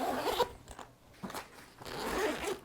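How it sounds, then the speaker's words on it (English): A zipper on a pocket of an Ogio Endurance 9.0 duffel bag is pulled in two close, rasping strokes separated by a short pause, with no voices. "We unzip it."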